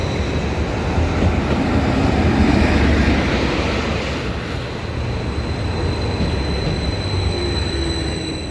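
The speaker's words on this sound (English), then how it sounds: "Now that is the first train to have stopped at Lakenheath in 6 days." A train pulls in and stops at Lakenheath station, a loud, steady rumble of wheels and engine with faint high squeals, easing slightly toward the end.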